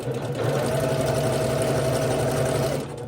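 A sewing machine runs steadily, stitching quilt pieces together row by row for a herringbone quilt, its even mechanical whir continuing close and alone for about three seconds before stopping.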